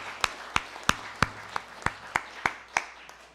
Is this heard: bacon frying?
no